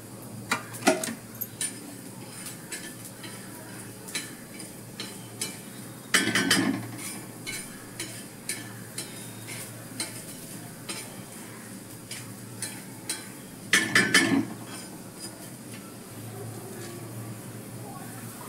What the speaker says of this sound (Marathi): आता मिरच्या काढून घेऊया आणि यामध्ये धने आणि हा गरम मसाला आपण भाजून घेऊ